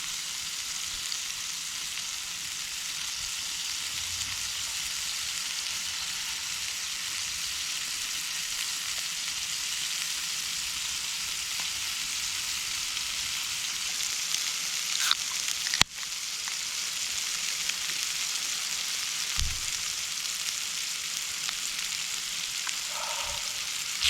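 Bacon sizzling in a pan, a steady close crackling hiss throughout with a couple of brief knocks partway through.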